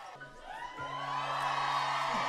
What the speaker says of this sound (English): Nah, they in the crowd going crazy.